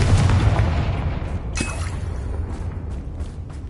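A Confringo spell explosion in a Harry Potter video game, a dense rumbling blast that decays, followed by a sharp burst and lingering crackle, with no talking.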